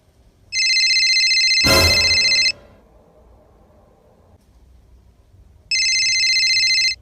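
A phone ringtone sounds twice, each a loud, steady electronic tone lasting about two seconds, with a sharp thump between the bursts and a quiet room in the gaps.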